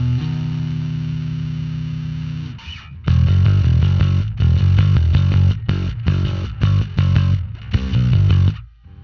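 An electric bass is played through the distortion effect of a Sonicake Matribox II Pro multi-effects processor. A sustained low note gives way to a loud, gritty riff of punchy repeated notes with short gaps between them.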